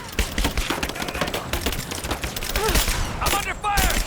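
Enemies open fire with guns in Rise of the Tomb Raider, a dense, continuous crackle of gunshots that runs throughout, with voices shouting over the barrage.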